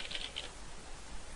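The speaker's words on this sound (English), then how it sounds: "we've put in any bit of gibberish text by tapping on the keyboards" Quiet, quick clicks of fingers tapping out gibberish on a computer keyboard, a short burst of keystrokes near the start and then soft background hiss.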